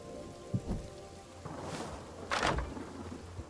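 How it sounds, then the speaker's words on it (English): Rain begins falling in a video game desert world: a steady, close hiss of drops with a couple of brief louder gusts of patter, with no voices. "it's starting to rain"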